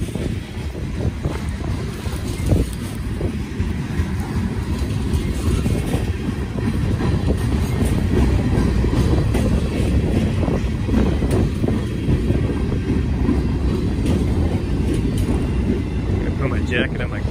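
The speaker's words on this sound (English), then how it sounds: "They must know that every train that comes in here stops." A loud, steady rumble of a train rolling on the rails at Peru, Indiana, continuous and close, with a rough, windy roar throughout.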